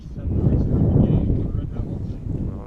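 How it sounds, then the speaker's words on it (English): A strong gust of wind buffets the microphone at an outdoor sophomore football game kickoff, a loud, steady low rumble that swells and lingers across the whole moment. "you can hear that wind. Strong gust of wind right there"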